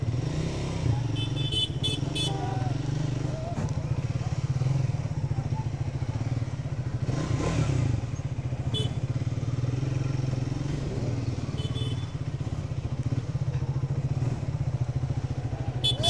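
A Triumph Speed 400 motorcycle rumbles continuously while being ridden, its steady engine drone close and loud throughout, with occasional clatters and thumps and faint horn toots from traffic in the background.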